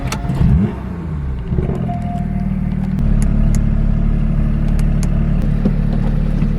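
A Porsche 991.2 GT3 with a manual gearbox pulls away and drives, its engine a steady, loud low rumble with a brief rising note early on, cabin clatter over the top.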